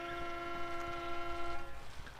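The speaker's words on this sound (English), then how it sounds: "Why is she honking?" A car horn blares in one long, steady honk lasting about two seconds, loud and close, with scene noise underneath; no speech.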